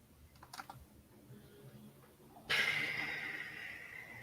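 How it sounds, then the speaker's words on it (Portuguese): A faulty computer keyboard gets a few quiet, scattered key taps before a steady hissing blast of noise takes over partway through, with no speech over it. "meu teclado que não está funcionando direito"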